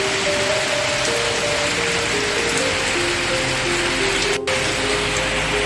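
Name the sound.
heavy rain falling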